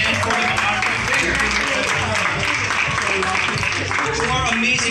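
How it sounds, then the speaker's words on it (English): An audience at a press conference for the MaArte fair at The Peninsula Hotel claps steadily, a dense wash of applause heard up close throughout, with voices mixed in. "Let's have a round of applause for the Pen and for the Maarte Fair."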